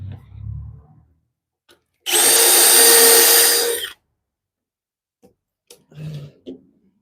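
A power drill drives pocket screws into a wooden workbench during a build, a single loud sustained whir of about two seconds, with faint quieter sounds before and after.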